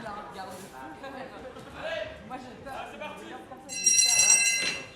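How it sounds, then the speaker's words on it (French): A wrestling match bell at a Swiss wrestling tournament rings with a bright, sustained metallic clang near the end, following crowd chatter and commentary voices. "Et la cloche a sonné."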